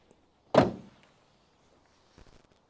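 The bonnet of a 2019 Volkswagen Up shuts with one solid, close thunk that rings briefly and dies away, followed about a second and a half later by a faint soft knock.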